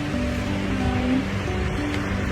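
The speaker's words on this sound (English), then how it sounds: "Surrounded by waterfalls." Rushing water from waterfalls surrounding a hidden valley produces a continuous, loud, broad roar that holds steady with no talking.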